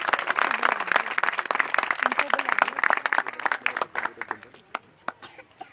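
Enthusiastic applause from a crowd, dense clapping that thins out toward the end into scattered individual claps.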